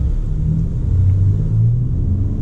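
Ford F-150 Limited with the Raptor's V6 engine, a deep steady rumble idling or running near and loud, with no talk over it.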